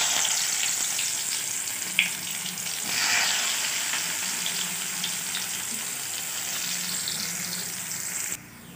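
Onions frying in hot oil in a wok for a fish curry, a continuous close sizzle with a sharp clink near the start and a brief swell partway through, no talking.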